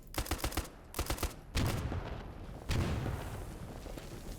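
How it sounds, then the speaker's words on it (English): Gunfire and explosions in a modded STALKER shooter, including AK fire: rapid sharp shots in quick bursts, then two heavy booming blasts that roll into long rumbling tails, loud and close with no talk. "here's what explosions look like, and I can't get enough of seeing them"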